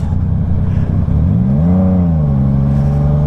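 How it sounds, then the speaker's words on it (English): A truck's engine brake (Jake brake) rumbles loudly nearby on the road. A steady low engine drone shifts pitch as the braking note rises and then settles. "Jake brake sounds."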